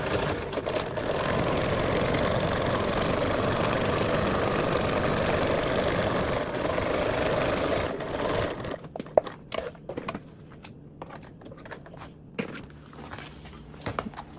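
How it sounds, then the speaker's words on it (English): A sewing machine basting a slip pocket onto a bag with a narrow seam allowance, a steady close motor whir that stops partway through, followed by scattered handling clicks and taps. "I'm just going to baste the slip pocket on. Again, using that 1/8 seam allowance"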